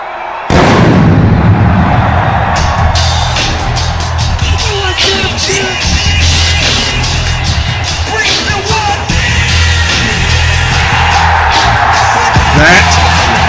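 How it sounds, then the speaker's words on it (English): A wrestling arena crowd erupts in a huge, loud roar with scattered yells and sharp bursts, sustained throughout and building after a sudden onset. "listen to this crowd."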